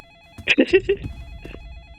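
Telephone ringing in a Roblox video game, a short bright electronic ring burst heard close up with a voice speaking over it.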